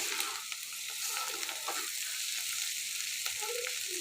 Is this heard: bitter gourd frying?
yes